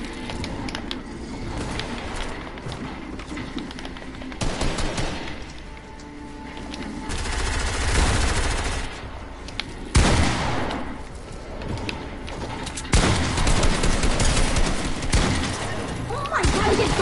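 Gunfire from a PS4 video game comes in repeated bursts and crashing volleys, loud and dense, with mechanical clatter mixed among the shots.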